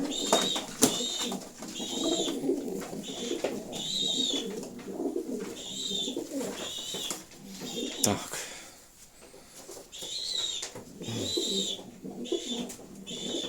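Sport pigeons coo in repeated soft, throaty phrases at a steady rhythm, close by, with quiet rustling and faint voices around them.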